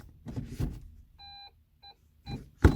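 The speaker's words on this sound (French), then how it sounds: "on entend même le bip de recul" Short electronic reversing beeps from a 2023 Dacia Sandero petrol 65 hp, two in quick succession and a third fainter one, sound between low rumbling bursts of nearby movement.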